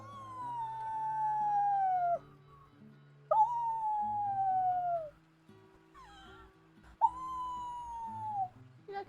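Drawn-out animal howls in the RedM roleplay game, three long falling wails and a shorter one in between, close and loud over quiet game ambience with no talking.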